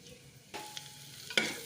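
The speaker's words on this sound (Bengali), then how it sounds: "এবার আমি দিচ্ছি আদা কুচি। এগুলোকে একটু ফ্রাই করে নেব।" Chopped garlic and ginger fry in oil with cloves, cinnamon, cardamom and black pepper, a soft close sizzle with a couple of brief stirring scrapes, quiet overall.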